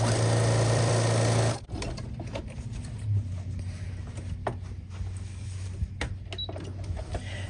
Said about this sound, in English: You do not want to sew over your pins, so remove them before you get to them.